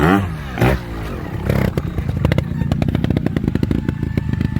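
Trials motorcycle picking its way through a section at the Dave Rowland National at Hawk's Nest, engine blipping and revving in rapid bursts with clattering over rocks, fairly close.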